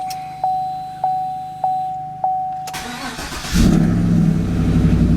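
A GMC Silverado pickup truck's engine cranks and catches after a few warning chimes, then settles into a loud, rough idle close by.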